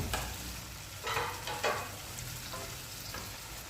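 Tomatoes go into a pan of lightly golden frying onions for restaurant-style Singaporean rice, giving a steady close sizzle broken by a few sharp stirring scrapes.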